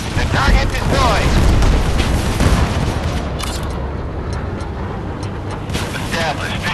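A loud booming ship explosion in the naval battle game Force of Warships rolls into a dense crackling rumble, with a synthetic voice announcing over the blast.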